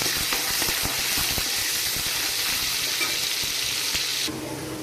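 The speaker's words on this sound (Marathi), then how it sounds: "मी लसूण आता चांगला लाल करून घेते।" Finely chopped garlic cloves fry in hot oil for a Marathi-style guar bean tempering, producing a loud, continuous close sizzle with crackling pops that drops to a quieter hiss near the end.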